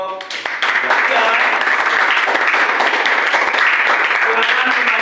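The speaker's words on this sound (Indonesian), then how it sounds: "beri tepuk tangan buat kelompok 3" A classroom of students gives a dense round of applause for a student group, the clapping rising after a brief moment and continuing steadily and loudly to the end, with voices faintly mixed in.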